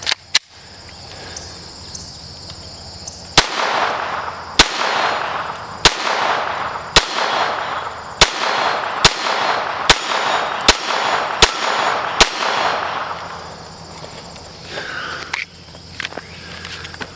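A Glock 44 pistol firing Winchester rounds at an outdoor range pops about ten times in a steady, unhurried rhythm, each shot sharp and close, with insects chirping softly in the background.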